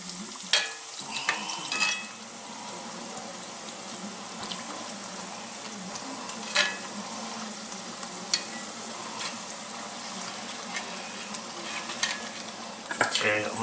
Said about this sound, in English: they're going to end up soggy and not crispy. So just keep them moving.